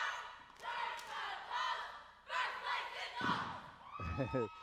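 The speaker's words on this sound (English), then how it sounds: "Now they're cheering, and again, volume is part of it." Cheerleaders at a high school game shout loud synchronized chants in bursts, their voices rising and falling with brief pauses. Thumps from stomps or landings come near the end.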